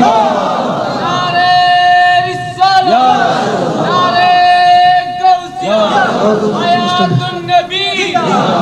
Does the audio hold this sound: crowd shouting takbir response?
yes